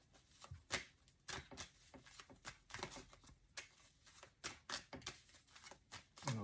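Tarot cards being shuffled close up, a quiet run of quick riffling and tapping bursts in an uneven rhythm, with no talking.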